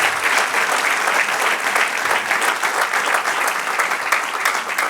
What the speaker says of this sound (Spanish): Los aplausos son los amenes nuestros